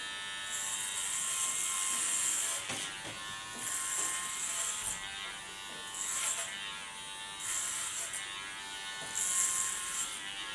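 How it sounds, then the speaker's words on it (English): Electric hair clippers buzz steadily while cutting hair for a clipper-cut, swelling louder in several repeated passes over a constant motor hum, close up with no talking. "Go as fast as the clipper can handle. So don't force anything."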